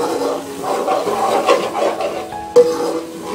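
Spices, black pepper and garam masala, being stirred into beef karahi in a pan, a steady close scraping and mixing with a soft sizzle throughout and a brief clink of utensil near the end.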